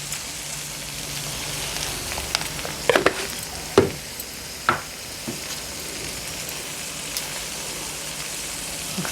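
A curry of broad beans and fenugreek leaves sizzles steadily in a pan while chili powder and salt are stirred in, with a few sharp scrapes and clinks of the spoon against the pan and no talking.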